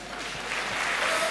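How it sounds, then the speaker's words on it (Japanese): Audience applause rising after a submission win at a DEEP mixed martial arts event, a dense crowd clapping steadily and growing slightly louder. "見事一本勝利を収めました秋元京馬選手に盛大な拍手を"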